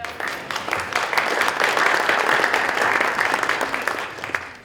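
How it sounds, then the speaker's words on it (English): Steady applause from a morning civic-event audience in Evanston fills the room, dense continuous clapping holding at an even level throughout before a slight swell at the end. "For a round of applause, right?"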